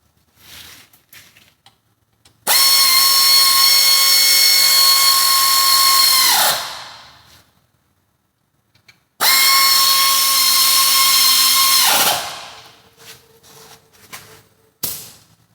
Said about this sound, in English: then you can switch to the air tool.